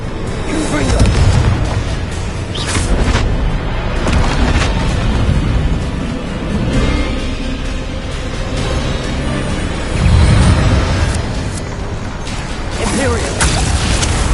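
Repeated booming Confringo spell explosions in the Hogwarts Legacy video game, loud and dense, with heavier blasts near the start and around ten seconds over a constant roar of game noise.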